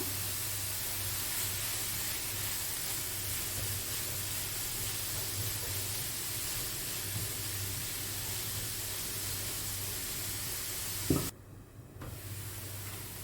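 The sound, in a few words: finely chopped onions sautéing in a pan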